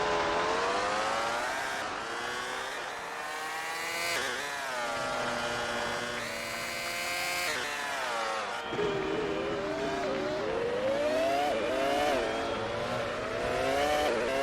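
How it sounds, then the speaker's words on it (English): High-pitched Formula 1 car engines in the video game F1 2002 whine and rev continuously, pitch sweeping up and down through gear changes, loud and up close, no voices. "At least they made the engine sound distinct"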